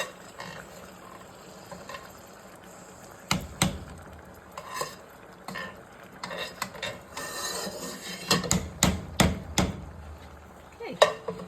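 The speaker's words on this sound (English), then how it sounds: "then I'll get to stirring all that up" Mexican rice ingredients stirred in a pot, with scraping and rasping strokes of a utensil against the pot in irregular bursts, busier and louder toward the end, over a faint background hiss.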